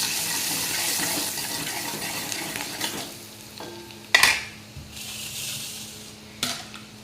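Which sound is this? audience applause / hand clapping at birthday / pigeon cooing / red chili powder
red chili powder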